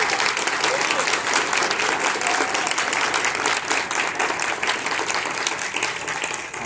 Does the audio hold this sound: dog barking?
no